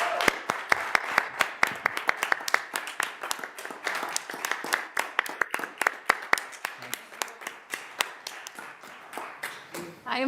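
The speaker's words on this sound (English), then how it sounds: "I just wanted to give him a round of applause." Audience applause at an Arlington County Board hearing honoring a retiring fire department member: steady, dense clapping from a room of people for about ten seconds, close and fairly loud, with scattered voices underneath.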